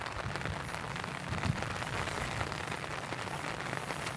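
Heavy rain falls and patters on surfaces outdoors at night during electric fishing, a steady dense hiss that keeps going with no talk.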